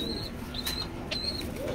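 Racing pigeons flap their wings in brief soft bursts close by, with faint chirping and cooing in a quiet loft.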